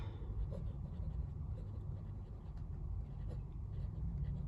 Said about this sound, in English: next I will write with this one. This is the Jinhao 92.